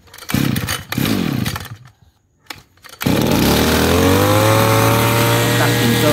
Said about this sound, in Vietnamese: Còn bây giờ mình sẽ nổ con Maruyama này cho mọi người nghe.